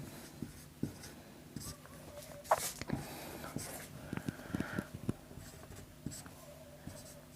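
A pen scratches across paper in short, irregular strokes, taking down notes on light reflection during a physics lesson. The scratching is quiet and close, with small taps and pauses between words and no voice.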